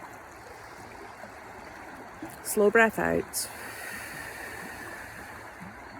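A river flows in a continuous, even rushing wash beneath a calm voice speaking briefly in the middle, the water steady and moderately close from start to finish.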